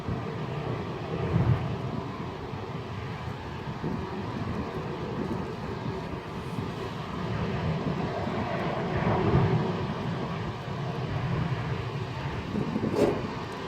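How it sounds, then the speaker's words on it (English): A deep, continuous rumble of water rushing through a rocket engine test stand roars steadily throughout, broad and heavy, without letup. "You can hear that rumble as the water flows in there."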